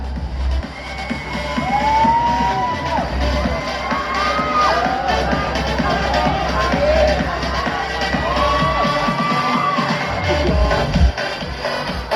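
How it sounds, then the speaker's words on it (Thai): Audience cheering and clapping at a Miss Grand Nan 2024 pageant finalist reveal, a loud, sustained crowd roar with whoops and shouts over continuous applause and music, lasting throughout. "ขอเสียงปรบมือด้วยครับ"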